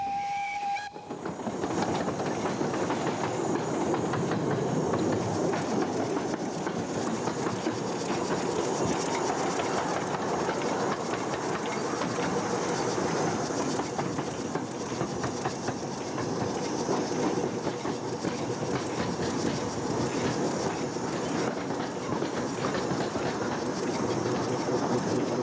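A steam train runs on the Eskdale narrow-gauge railway in Britain, a brief whistle at the start giving way to a continuous loud rumble and clatter of wheels on rails throughout.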